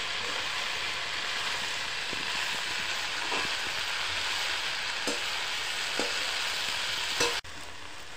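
Komli greens sizzle and fry with garlic and dried chili in a pan, a steady hiss broken by occasional stirring scrapes and clinks, close and without voices.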